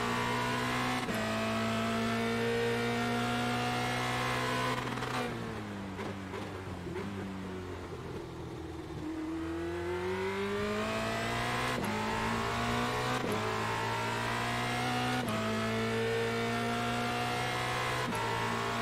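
Formula Renault 2.0 race car engine in iRacing at Spa during qualifying, revving loudly and steadily with rising and falling pitch as it shifts through gears, dipping briefly mid-lap before climbing again.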